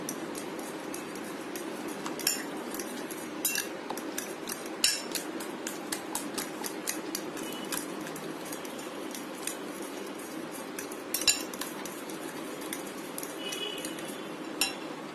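A spoon scrapes and clinks against a bowl in quick irregular taps as breakfast batter is mixed with chopped coriander leaves, salt and flakes, close and fairly quiet with no talking.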